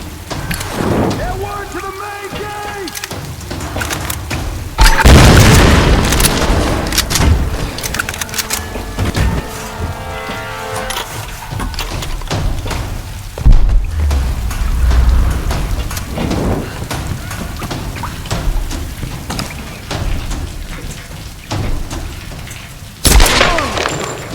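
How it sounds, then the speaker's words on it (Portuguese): Bombardment in the Tomb Raider video game rumbles with heavy booming explosions and crackling debris over a rain-like wash, loud blasts recurring every few seconds with a voice speaking briefly between them. "Começou o bombardeio."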